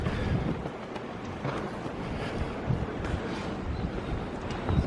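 Wind buffets a microphone on the open front deck of the cruise ship Explorer of the Seas at sailaway, a constant gusty rumble with faint rushing water beneath, no voices.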